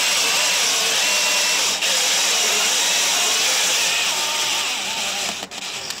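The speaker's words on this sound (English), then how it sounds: "it just drills the hole and then taps the hole, and we drill it back out." A power drill bores and taps a hole in a metal boom fitting for a sailing ketch's standing rigging, a loud continuous whirring grind that runs steadily, briefly dipping midway and easing near the end.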